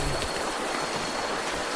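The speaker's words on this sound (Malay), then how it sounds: "Okay, sungai." A river flowing at night during a 30 km night ultra trail run in Janda Baik, a steady, loud, broadband rush of moving water filling the clip with no voices.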